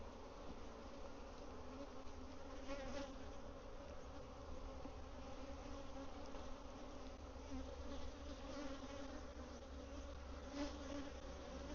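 Honey bees humming steadily from an opened hive during an inspection of brood frames, a dense, even buzz held low and constant throughout with no pauses.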